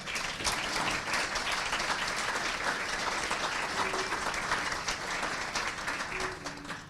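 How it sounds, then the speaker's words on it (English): A large crowd applauds steadily, dense and sustained clapping filling the space for several seconds before starting to taper off. "how about a big round of applause for our city?"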